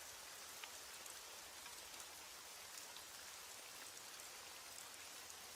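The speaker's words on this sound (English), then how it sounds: "As the rain falls and the night deepens" Steady rain falls at night, a continuous, even hiss of drops on surfaces with no breaks, soft and distant-sounding throughout.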